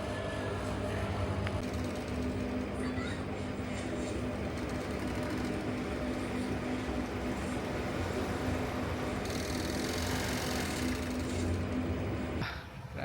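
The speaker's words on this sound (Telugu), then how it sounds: "దీన్ని ఓవర్లాక్ మిషన్ అంటారు." An overlock sewing machine runs steadily, stitching T-shirt fabric in a busy garment workshop in Tiruppur, a continuous mechanical hum with a faint whine that holds throughout and stops abruptly near the end.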